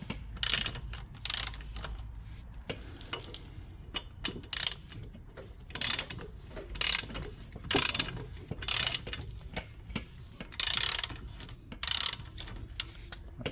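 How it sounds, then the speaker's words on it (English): A ratchet turns a 17mm socket on the lug nuts of a Nissan Versa, giving repeated bursts of loud, close clicking with short pauses between strokes. "17mm socket for the lug nut."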